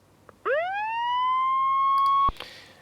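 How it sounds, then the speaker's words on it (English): A single electronic siren sound effect sample sweeps upward and holds steady for about two seconds before cutting off abruptly, clear against a quiet background. "there we go, siren 1."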